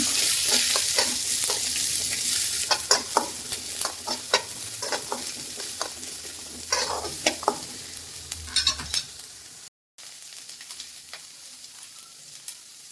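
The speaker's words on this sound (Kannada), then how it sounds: "ಸ್ವಲ್ಪ ಎಣ್ಣೆ ಹಾಕ್ಕೊಂಡು ನೀಟಾಗಿ ಫ್ರೈ ಮಾಡ್ಕೋಬೇಕು." Ingredients for leaf sambar fry in a little oil, with a soft sizzle under repeated sharp spatula scrapes and taps against the pan. A brief break cuts in near the end before the quiet sizzle resumes.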